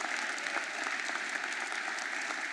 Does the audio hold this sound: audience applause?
yes